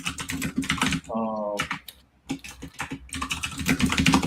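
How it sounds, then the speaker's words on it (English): Rapid clacky keystrokes on a mechanical keyboard, fairly close, with a brief harmonic tone and a short pause breaking up the steady typing. "Why is the keyboard so loud?"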